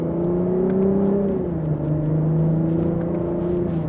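Engine and exhaust of a 2025 Lexus IS350 F Sport sedan pulling hard in sport mode, second gear, with active sound control on, a steady droning tone that rises, dips around a shift and climbs again.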